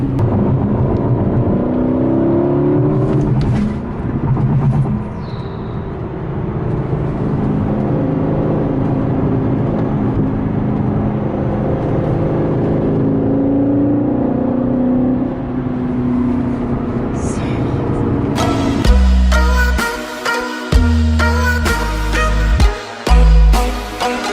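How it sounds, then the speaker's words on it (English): A sports car engine drones and whirs for a long stretch, then rises into sharp, loud revving bursts near the end. "I'm gonna rev it now because I know you guys want to hear what it sounds like"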